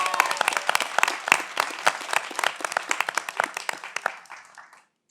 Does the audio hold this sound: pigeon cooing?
no